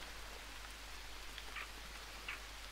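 Rain falls in the jungle survival game Green Hell, a steady even patter of drops with a low constant hum beneath and a few brighter splashes.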